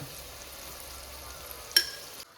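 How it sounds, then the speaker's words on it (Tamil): Tomatoes sautéing with turmeric and chili powder in a pan, giving a steady, quiet frying sizzle with a short stirring clatter near the end. "இப்போ நல்லா தக்காளி வதங்கட்டும்"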